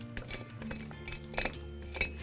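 Opal-bearing rock struck with a tool gives sharp, glassy clinks, several irregular taps ringing over a low background hum, close and clear.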